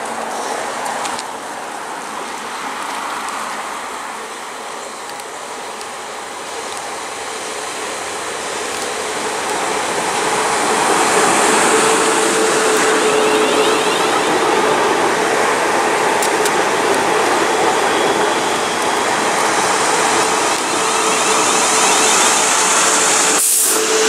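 A train terminating from Lymington Pier rolls into Brockenhurst station with a steady broadband rumble and hiss that swells midway and holds, close and fairly loud, with no talk.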